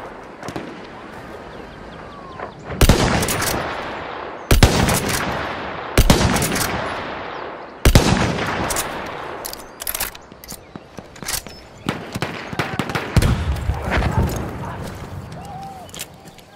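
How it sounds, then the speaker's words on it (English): Rapid bursts of machine gun fire and scattered gunshots in a Battle of the Somme video game, loud sharp cracks repeating in clusters over steady battle noise. "An enemy machine gun!"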